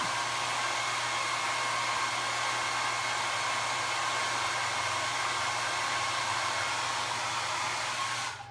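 A hair dryer blows on craft glue on a skeleton candle sconce, a loud, steady close whoosh and motor hum that holds unbroken before cutting off at the end.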